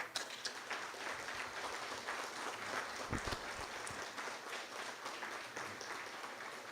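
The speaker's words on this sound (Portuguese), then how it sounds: "Quero pedir a todos vocês uma salva de palmas para ela." A church audience claps steadily for a woman called forward, a continuous moderately distant round of applause with a brief low thump partway through.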